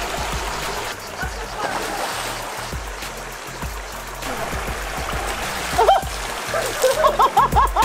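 Water splashes and sloshes as people bathe in a river over its steady flowing stream, with occasional voices nearby and a few brighter splashes toward the end.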